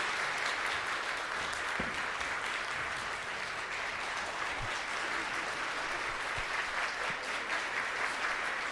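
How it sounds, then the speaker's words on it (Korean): A large crowd applauds steadily at a Christmas Day church service, dense continuous clapping holding at an even level throughout with no voices standing out. "우리 모든 분들에게 감사와 우리 수고의 박수를 드리도록 합니다."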